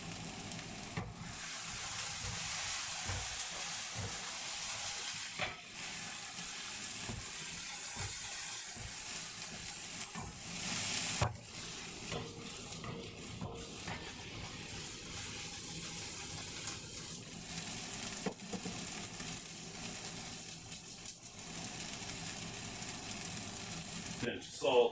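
Chicken soup ingredients sizzling and being stirred in a pan, a continuous soft crackle with scraping bursts and occasional clatter, running steadily under a voice talking nearby.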